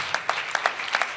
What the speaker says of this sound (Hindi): आपकी तालियों की आवाज मुझे समझ आएगी